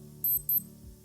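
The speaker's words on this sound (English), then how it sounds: "it will give beeping sound like this" A Casio G-Shock GA-2200 watch alarm sounds in a quiet room: two short, high-pitched electronic beep bursts in quick succession, crisp and close.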